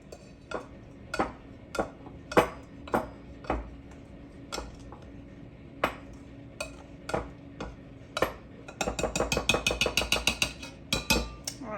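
Cubed butter is worked into scone flour mixture with a utensil, producing scattered sharp taps and scrapes against a bowl that turn into a rapid run of clicks near the end, close and without talking.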